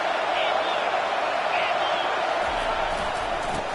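Roaring crowd noise fills a college football stadium at a Texas versus South Carolina game, a steady dense wash of cheering and shouting held loud and continuous throughout.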